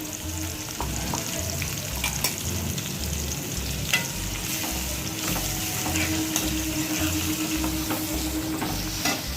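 Garlic paste and dry fruit paste fry in a pan for a paneer tomato curry, giving a steady, close sizzle with stirring scrapes throughout and no talk.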